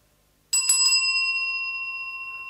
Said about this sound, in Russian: Также идет тибетский колокольчик.